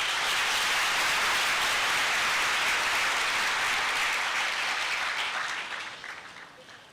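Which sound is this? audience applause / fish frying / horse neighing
audience applause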